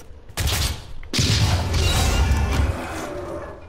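Missiles fire in the Doom video game in a burst of loud, close blasts and crashing, booming bangs, one sharp launch followed by a second heavier volley that rumbles on and then fades, with no speech.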